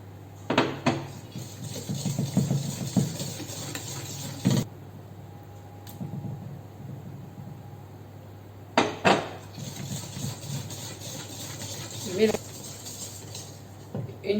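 Egg yolks are stirred into a sugar-and-egg cake batter for a chocolate cake, with utensil scraping and clinking against a bowl in uneven bursts, close by and moderately loud, with pauses of near quiet.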